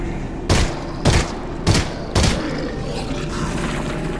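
Gunfire in the VR game Half-Life: Alyx, four loud evenly spaced shots about half a second apart, each a sharp broadband crack with a short tail, then quiet game ambience.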